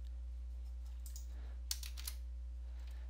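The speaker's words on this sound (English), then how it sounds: "I'm going to type in WinRAR," Light typing on a computer keyboard, a short run of soft, close key clicks over a steady low hum.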